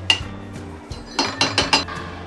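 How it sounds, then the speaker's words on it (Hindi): A spoon stirs shahi chicken korma in a cooking pot, making a quick series of bright metallic clinks and scrapes. Several sharp taps cluster together near the end. "ये देखिए चम्मच की मदद से अच्छे से चला लेना है।"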